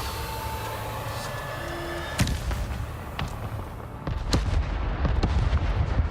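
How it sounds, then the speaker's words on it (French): Sharp explosive blasts crack out over a low ambient rumble, one strong bang followed by a cluster of several quicker, closer booms toward the end. "Oh là là, c'est de l'explosion"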